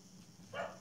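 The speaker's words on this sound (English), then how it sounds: "My dogs are going nuts." Dogs bark from somewhere else in the house, a short muffled burst of yaps that is faint and distant over a quiet room.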